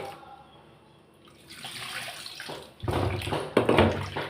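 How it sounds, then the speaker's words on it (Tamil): Water splashing and swishing as tamarind is squeezed and dissolved by hand for a fish kulambu, quiet at first, then louder, close sloshing in the second half. "இப்போ புளியை கரைச்சிக்கிறேன்"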